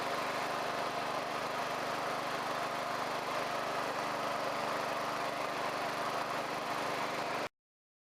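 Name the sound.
Wheel Horse 257H garden tractor engine running on ride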